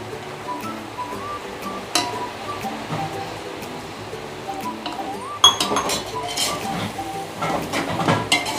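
Curd being added and stirred into mutton biryani masala with mint and coriander leaves in a cooking pot, heard as scattered clinks and scrapes of a spoon against the metal, louder and busier in the last few seconds.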